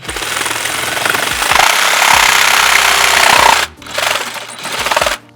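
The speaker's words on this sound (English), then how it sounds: "You got to get your jigsaw in there. Okay, so now I'm just going to cut this line." Jigsaw cutting through sheet metal on a Mercedes Sprinter NCV3 van, a loud, close, continuous rattling buzz that stops briefly, then resumes in two short bursts.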